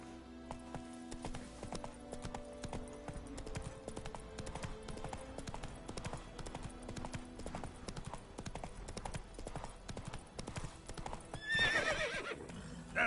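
Roach, the horse in The Witcher 3: Wild Hunt, gallops with fast, rhythmic hoofbeats close by, ending in a loud neigh.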